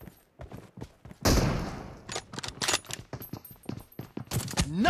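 Gunfire in the battle royale game PUBG during a team deathmatch: a rapid fusillade of shots in quick bursts, with scattered single cracks and footstep-like clatter around them.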